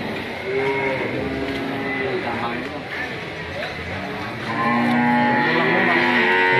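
Bulls and beef cattle at an Indonesian cattle sale, lowing several times close by and loud amid crowd chatter and talking voices.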